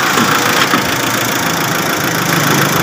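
A Mitsubishi Adventure's engine idles close by with the hood open, a loud, constant mid-range rumble and vibration that never changes pace across the few seconds.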